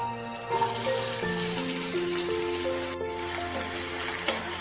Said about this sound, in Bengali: এবার এই তেলের মধ্যে কিছু পেঁয়াজ আমি ভেজে রাখবো বেরেস্তা করে নেব